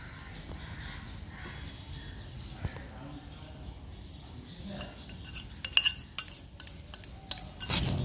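Semolina cake batter with eggs, sugar, oil and flour is mixed in a bowl, with soft scraping and stirring that builds into quick utensil clinks near the end, under faint background noise and light talking.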